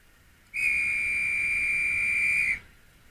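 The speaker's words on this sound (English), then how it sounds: "Guards whistle." A model railway guard's whistle gives one shrill, steady blast of about two seconds, loud and clean with no talking.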